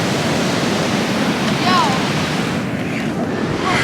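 Ocean water washes and churns around a fishing pier in a continuous loud rush, with gusts of wind buffeting the microphone and brief voices in the background.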